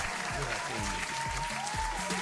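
Applause from a call-in morning show studio audience, a steady dense wash of clapping sustained throughout at moderate level, with a low rhythmic thump underneath.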